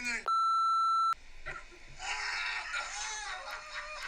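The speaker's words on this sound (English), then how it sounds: "We got to beep his name again." Censor beep covering a spoken name: a single loud steady tone lasting just under a second, followed by muffled talk and background commotion.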